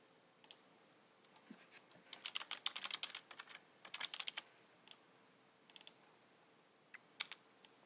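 Computer keyboard keys pressed in quick shortcut bursts while working in GameMaker Studio, fairly faint, irregular clusters of clicks with gaps between them, no talking.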